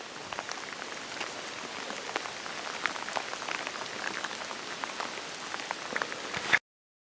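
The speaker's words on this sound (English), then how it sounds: "It's been raining on and off" Steady rain patters on surfaces at a lakeside campsite in Sweden's lake district, with scattered distinct drops, constant and close, then cuts off abruptly at the end.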